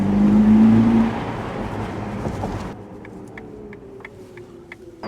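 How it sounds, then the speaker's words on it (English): Ferrari SF90 Spider, a 1000 hp hybrid, driving on rough roads: a loud, close engine roar for the first few seconds, then dropping to a quieter, steadier hum with light clicks. "You just got to love a Ferrari sound."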